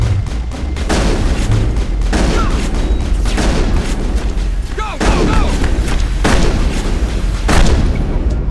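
Gunfire in the Mass Effect video game: loud repeated bursts of shots and booms in several waves, each followed by a short decay, with a steady rumble underneath.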